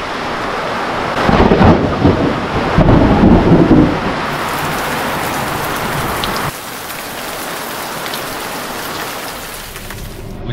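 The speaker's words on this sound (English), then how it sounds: "It thunderstormed and rained all night." A thunderstorm on a remote road in Guyana, with loud rolling thunder over steady heavy rain, a big rumbling burst early on and then a constant dense hiss of pouring rain.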